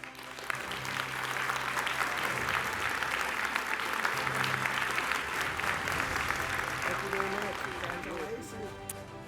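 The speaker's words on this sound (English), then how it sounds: "Another round of applause" A room of guests at an investiture lunch applauds warmly, a full, even wash of clapping that holds for several seconds while a voice speaks faintly underneath.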